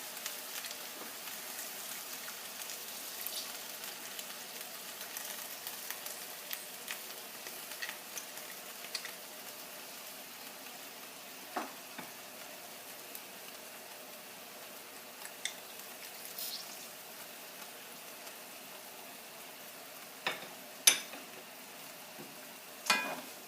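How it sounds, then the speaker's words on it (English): Chicken and asparagus simmer in lemon juice in a pan, a faint, steady low sizzle and bubbling with scattered soft ticks and pops. "Okay, so this has been simmering"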